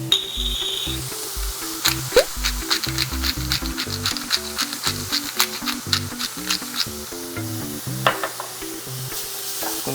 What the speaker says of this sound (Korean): 센 불로 볶았기 때문에 숨은 죽었어도 물기가 없이 볶아지는